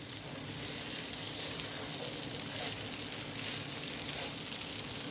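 Masala and green chilies fry in hot oil, a steady close sizzle with faint stirring and no talk.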